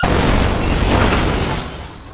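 A bomb goes off in the Roblox game Plunger Roulette, a loud, dense, broadband blast that fills the whole clip and fades slightly toward the end, with no voices.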